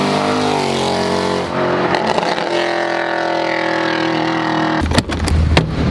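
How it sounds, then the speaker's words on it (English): A Mercedes C63 fitted with long tube headers drives by, its exhaust loud and raspy as the engine revs and accelerates, with a sharp burst of throttle near the end. "we've came to the most appropriate place to test out the exhaust"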